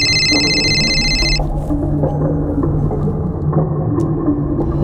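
A phone's electronic ring trills for just over a second over a low rumbling background, then stops, leaving only the steady rumble.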